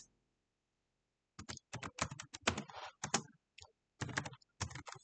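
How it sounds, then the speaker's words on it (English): Keys on a computer keyboard are tapped in quick, uneven bursts, crisp and close, with brief pauses between groups of keystrokes and no talking. "So here I will type in Python, importing our Django as a module."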